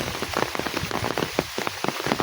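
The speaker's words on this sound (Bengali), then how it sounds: "প্রচুর বৃষ্টির মধ্যে আমি হেঁটে চলছি," Heavy rain pours steadily over a village, a dense close hiss of drops pattering on surfaces with no voices, just continuous downpour.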